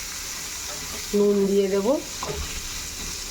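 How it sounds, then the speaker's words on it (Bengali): Chopped onion and potato fry in a pan with a soft, steady sizzle, while a voice speaks briefly over it. "পেঁয়াজ কুচোনো আর আলুটা একসাথে দিয়ে দিলাম। এগুলো একটু ভেজে নেব"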